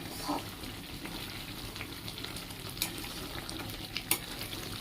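Prawns frying with asafoetida in a pan give a steady, moderately loud sizzle, with a few light scrapes and clicks as the mixture is stirred, and no talking.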